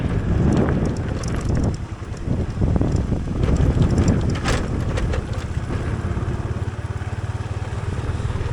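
Cold, dry wind buffets the microphone at a roadside forest-produce market in Laos, a steady, loud rumble of gusts that continues throughout with no speech.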